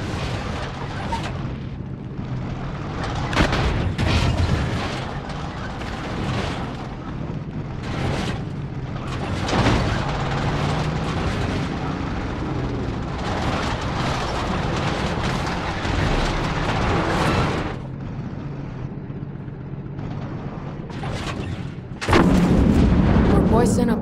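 Explosions and gunfire from the video game Far Cry 6 as stockpiled poison is blown up and burns, with repeated heavy booms and crackling blasts over a dense continuous roar, ending in a louder burst.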